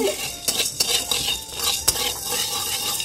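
A spatula stirs momo filling in a metal pan, a few sharp scraping clicks of metal on metal over a soft low sizzle, close and short.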